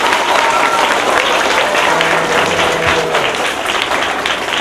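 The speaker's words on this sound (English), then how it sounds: "Let's give them a big round of applause" A crowd at a school gathering applauds loudly and continuously for several seconds, dense close clapping with faint voices underneath.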